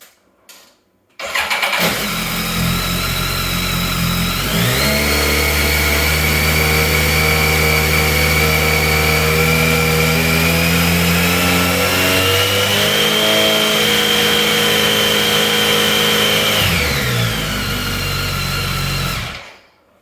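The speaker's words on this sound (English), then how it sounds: "now let's go for 2500 RPM" A BMW K1300R motorcycle fitted with an Arrow slip-on exhaust starts and holds a steady rev around 2500 RPM, loud and close, with a slight rise in pitch partway through before it shuts off.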